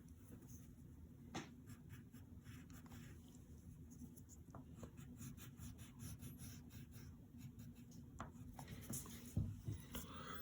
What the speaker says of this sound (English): And then we gotta draw these last two patterns.